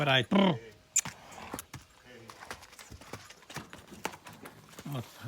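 Draft horse hooves clip-clopping at close range with irregular clatter and harness jingling, while people talk over it.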